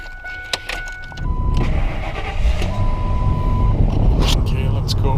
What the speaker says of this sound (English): we're going to kick on the engine here and run the compressor